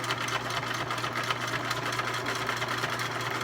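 Close and steady, a sewing machine hums along without pause as it runs an anchor stitch down the edge of a pleated fabric face mask.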